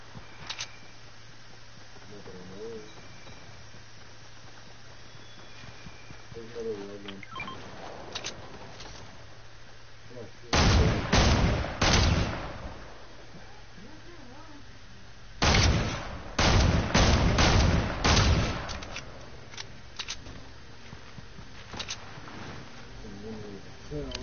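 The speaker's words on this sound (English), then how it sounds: "You hear gunshots?" Bursts of rapid gunfire in a video game, two loud volleys separated by quieter stretches with faint distant shots and voices in between.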